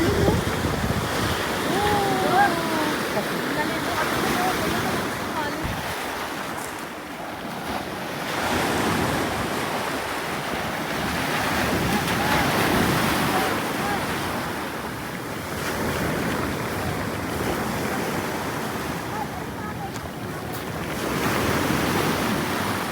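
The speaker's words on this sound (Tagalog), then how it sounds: "Lakas ng alon, no?" Powerful surf rolls onto a beach in repeated surges, a broad continuous roar that swells and ebbs every few seconds, with gusting wind rumbling across the microphone throughout.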